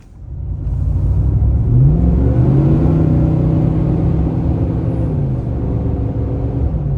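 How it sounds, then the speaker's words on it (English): Interior of a 2018 Nissan Titan pickup truck driving on a road, a loud, steady low engine rumble with a brief rising rev early on, then a constant cruising drone throughout. "As I drive the 2018 Nissan Titan around"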